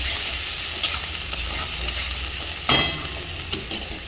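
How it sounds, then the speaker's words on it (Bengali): Finely chopped onions fry in oil left from frying eggs, a continuous close sizzle with occasional sharp crackles and a few spoon scrapes against the pan. "ডিমগুলো তুলে নিয়ে ছোটো ছোটো করে কুচনো পেঁয়াজ ভালো করে লাল লাল করে ভেজে নিতে হবে"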